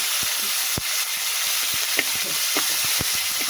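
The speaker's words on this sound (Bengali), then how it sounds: "তাহলে মাছটা ভাজা হোক আস্তে আস্তে।" Tengra fish fry in hot oil in a wok, giving a steady bright sizzle with sharp clicks and pops scattered throughout, heard close and alone without talk.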